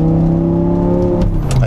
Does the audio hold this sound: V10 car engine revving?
yes